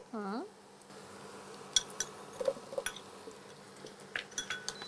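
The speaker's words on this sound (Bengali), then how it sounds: "এবার আমি সবজিগুলো পেঁপেটাকে দিয়ে দিচ্ছি" Vegetables and papaya tipped into a pan to fry for a Bengali-style mutton stew: a short voice at the start, then scattered clinks, taps and scrapes of utensils against the pan, near and moderately loud.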